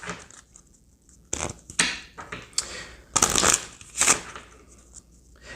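Tarot cards shuffled by hand at close range, a run of crisp riffling bursts and soft taps with pauses between, no voices over it.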